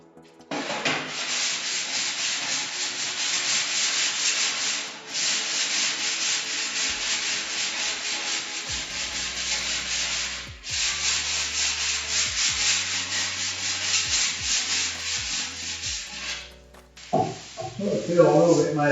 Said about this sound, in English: let's have a look with the file.